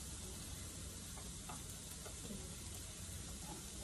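Jalapenos hitting a frying pan of soft cooked vegetables for a tofu noodle bowl, giving a steady, continuous sizzle and crackle that holds evenly throughout at moderate loudness with no talking.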